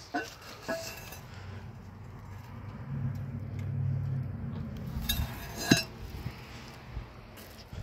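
A 1960s Chicago Potteries ceramic toilet tank lid handled in an abandoned house, giving faint scattered clinks and scrapes, with one sharper ceramic knock near the end over a low background rumble.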